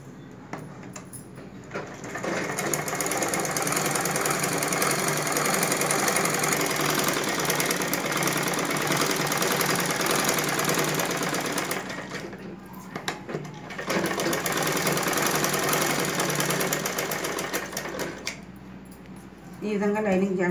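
A sewing machine joins the lining to the back piece of a prince-cut blouse, running steadily for long stretches with a couple of brief pauses, loud and close, with no talk over it.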